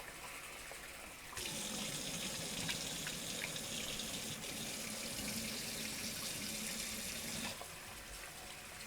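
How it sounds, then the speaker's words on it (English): Basmati rice is rinsed in cold water under a running kitchen tap; the water gushes strongly into the pan for several seconds, quieter before and after, with no speech. "just rinsing it a few times in cold water"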